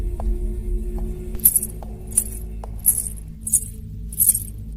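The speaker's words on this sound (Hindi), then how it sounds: "जैसे किसी के पायल या चेन के हिलने की आवाज आई।" Small metal anklet bells or chain links jingle in several short bursts, a faint clink between them, over a low rumbling background.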